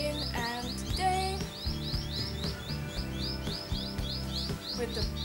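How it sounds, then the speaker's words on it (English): In a garden, birds chirp and tweet in quick repeated bursts, fairly close and lively, over a soft steady background with faint voice-like hum beneath. "It's kind of noisy with the birds."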